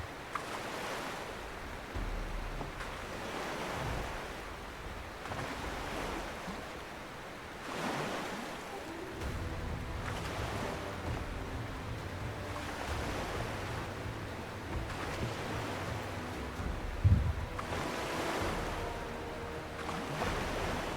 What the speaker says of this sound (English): The wave action feels real to me.